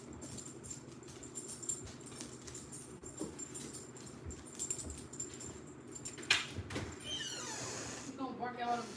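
A dog whimpers and sniffs by the door, wanting to go outside. Faint scuffling is followed by a few brief, thin whines late on, mixed with people talking in the room.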